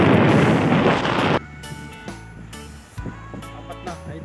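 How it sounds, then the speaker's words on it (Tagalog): Strong wind roars and buffets the microphone for a moment, then drops away, leaving quieter outdoor sounds and a faint tonal hum. "ang lakas ng hangin"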